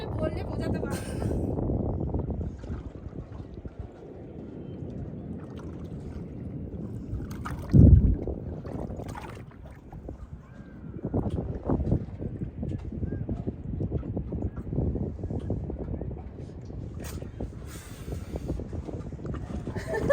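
A speed boat ride at sea off Puri brings a constant rumble of engine and rushing water, buffeted by heavy wind noise, with a louder thump near the middle and voices talking over the ride.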